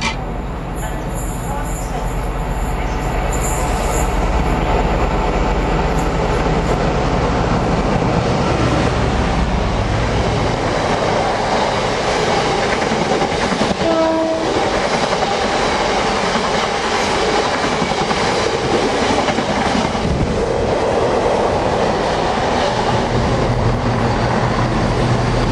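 Class 60 freight locomotive passing in the opposite direction near Tamworth while a Cross Country train nearly blocks the view: loud continuous rail rumble with rhythmic wheel clatter and brief squeal, close by.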